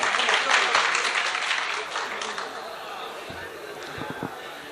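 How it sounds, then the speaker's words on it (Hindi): Audience applause at a ghazal mushaira in Meerut welcoming a poet, a broad wash of clapping that is strongest at the start and thins out toward the end, with crowd chatter and scattered voices mixed in. "ताली बजाकर दोबारा इस्तकबाल कीजिए आप"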